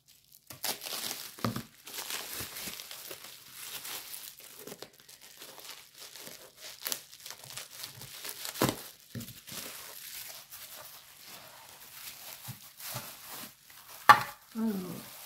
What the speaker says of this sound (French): ça, le papier bulle, il va me servir pour autre chose.